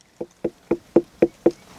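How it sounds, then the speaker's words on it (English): Six evenly spaced hollow knocks land on a ripe watermelon growing in a field, each a short, dull thud about a quarter second apart, close and clear against quiet surroundings. "And if we knock on it,"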